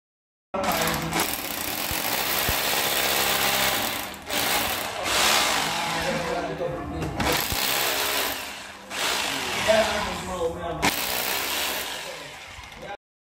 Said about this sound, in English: I have here my drilling machine with my concrete bit ready.